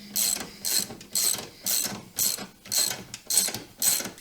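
A Harley-Davidson Softail being let down on a motorcycle lift gives a steady run of eight evenly spaced ratcheting clicks, loud and close, with no talking.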